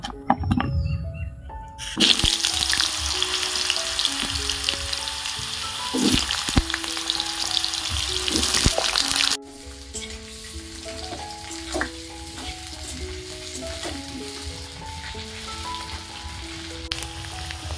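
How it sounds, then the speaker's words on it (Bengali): Potatoes fry in mustard oil in a wok, a loud crackling sizzle with stirring clatter that suddenly drops to a quieter simmering hiss partway through, while tonal background music runs throughout. "প্রথমে দেখো, আলুগুলো ভালো করে ভেজে নেব।"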